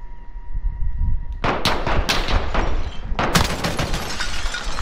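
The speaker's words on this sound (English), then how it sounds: "He's shooting." Bursts of automatic gunfire in Call of Duty: Modern Warfare, loud sharp cracks in rapid clusters after a quiet moment, pausing briefly and then resuming with another volley near a house.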